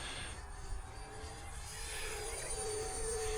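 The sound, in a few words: E-flite Habu 50mm EDF RC jet flying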